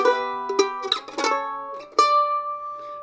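Bright plucked mandolin notes with sharp attacks, several in quick succession, then a final strummed chord that rings out and fades.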